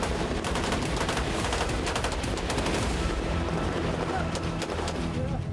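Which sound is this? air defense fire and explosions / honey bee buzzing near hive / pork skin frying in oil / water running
air defense fire and explosions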